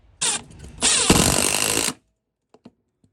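A cordless impact driver sinks a screw in two loud, harsh bursts of rapid hammering, the second longer and rattling with vibration, followed by a few faint clicks and near silence.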